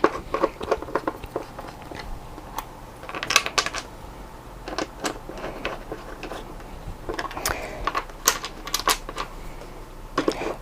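Bolts being driven into a snowboard binding's mounting disc give off irregular clicks, ratchety taps and small metallic clatters, fairly faint and close, spaced unevenly across the scene.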